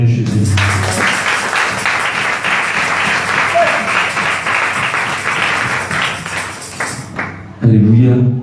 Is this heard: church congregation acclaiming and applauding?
yes